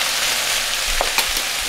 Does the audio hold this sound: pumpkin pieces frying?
yes